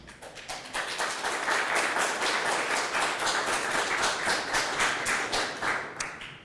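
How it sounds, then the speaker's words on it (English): An audience at a 2025 federal candidates debate applauds in a steady, dense burst of many hands that holds for several seconds before tapering off. "I would remind the audience to refrain from applause."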